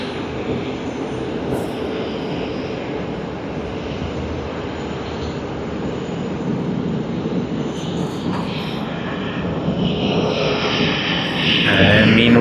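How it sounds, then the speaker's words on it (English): An Airbus A350-900 departs Sydney Airport, its engines a steady broad roar that holds throughout and swells louder near the end as the jet climbs out. "we are glad to see it depart from Sydney too."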